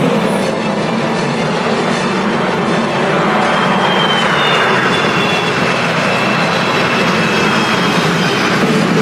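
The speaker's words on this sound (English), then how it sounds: "Presenting the F-15 Vertical Climb." An F-15 Eagle jet fighter in a vertical climb during a parade flying display makes a loud, continuous, broadband roar that holds steady throughout with no breaks.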